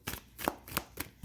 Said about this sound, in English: I am going to shuffle it